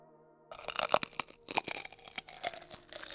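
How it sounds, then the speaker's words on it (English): Close, loud crunching and crackling of someone biting into and chewing raw sweet peppers, a string of sharp crisp bites with brief pauses, following a quiet steady hum. "I'm introducing them to the sound of sweet peppers."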